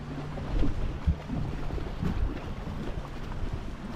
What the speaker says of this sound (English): It's a little bit windier than I thought it would be today